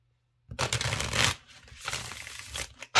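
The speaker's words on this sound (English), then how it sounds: "Now, I always shuffle a minimum of 6 times." A new tarot deck is shuffled by hand, two close riffling bursts of stiff cards separated by a brief pause, ending with a sharp snap; no talking.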